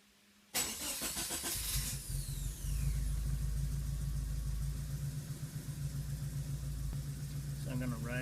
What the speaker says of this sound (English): let's get now into cranking